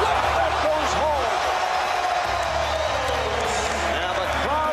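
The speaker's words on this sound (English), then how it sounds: "And the crowd responds." Basketball arena crowd at the 2003 NBA All-Star Game roaring after a Michael Jordan basket, a loud sustained cheer filling the space, with a commentator talking over it.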